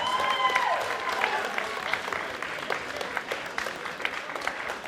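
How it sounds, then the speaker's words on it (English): Audience applause rings out for bands at a Battle of the Bands awards event, steady, dense clapping with a few louder individual claps and a voice trailing off at the start. "A round of applause for both"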